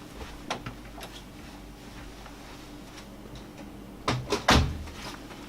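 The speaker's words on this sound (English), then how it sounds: "I'm just going to go close the door and let that just do its thing." A door swings shut nearby with a couple of loud thuds near the end, after faint clicks and room noise.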